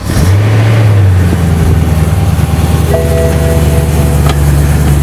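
A car rolls over an iPhone 6 in a LifeProof case, its engine humming loud and steady throughout with a low drone and a rising tonal whine near the end, no voices.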